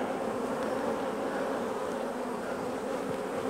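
Honey bees buzzing steadily and densely around an open, queenless hive during an inspection, a close, continuous hum with no pauses.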